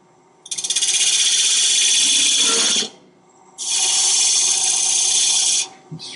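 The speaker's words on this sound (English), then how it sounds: "It scrapes off the top of those beads just wonderful." A woodturning scraper shaves the tops of beads on a spinning wooden box on a lathe, making two loud, close, hissing scrapes of about two and a half seconds each, separated by a brief pause.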